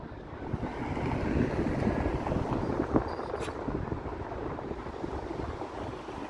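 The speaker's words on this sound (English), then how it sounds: "It's a bit windy here," Steady outdoor wind buffeting the microphone on a Toronto city walk on a Sunday evening, a constant low rumbling roar that continues throughout with no talk.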